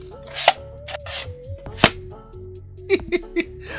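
A few sharp pops from a Hasbro Ghostbusters Mini Puft Popper toy, one louder snap in the middle and three quick pops near the end, with quiet shuffling in between.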